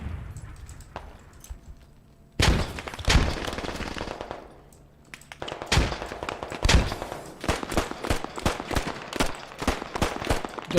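Gunfire in the tactical shooter Squad: loud rapid automatic bursts and scattered single shots, some close and sharp, others echoing farther off, with a short lull between volleys.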